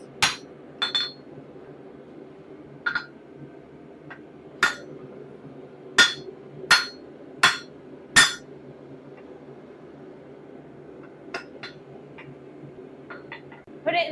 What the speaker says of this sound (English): Put it in the vise and hit it from the other side with a smaller punch.